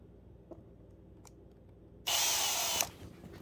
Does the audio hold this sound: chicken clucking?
no